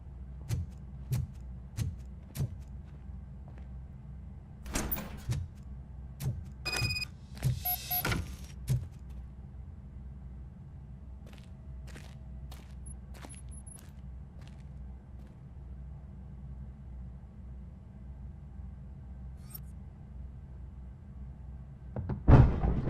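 A door opens in RoboCop: Rogue City with a series of mechanical clunks, motor whirs and sharp metallic clicks, followed by a long quiet hum and a final heavy thud.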